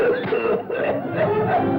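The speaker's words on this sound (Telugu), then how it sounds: "విన్నావా దగ్గు?" A run of close, raspy tuberculosis coughs in quick succession, several bursts over under two seconds, with a muffled, hacking quality.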